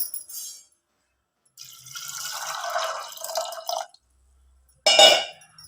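Water is poured into a pressure cooker holding fresh peas for street-style chaat, giving splashy bursts with a pause between them and then a bright, louder splash near the end.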